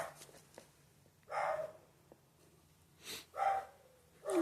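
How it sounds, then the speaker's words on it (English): Dog barking indoors, three loud sharp barks spaced a second or two apart, with soft breathing and snorts between them, fairly close. "This dog, what are you barking at?"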